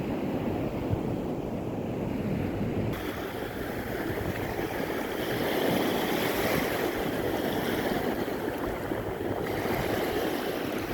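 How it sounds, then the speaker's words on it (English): Waves wash steadily onto a Spanish shore, a continuous hiss of surf mixed with some wind buffeting the microphone, no voices. "the waves do come in"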